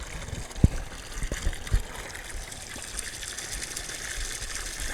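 Steady rush and trickle of water circulating through a VEVOR CPF-2500 pond filter, a continuous broadband gush at moderate level with a few low thumps near the start.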